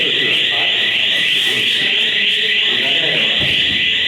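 A loud, continuous high-pitched electronic alarm blares steadily throughout, with muffled voices and room noise underneath.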